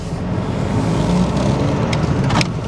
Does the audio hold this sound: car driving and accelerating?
yes